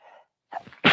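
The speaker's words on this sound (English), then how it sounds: "Now I have to sneeze." A quick, close sneeze ends the moment, a sharp burst following a brief indoor breath and a short pause.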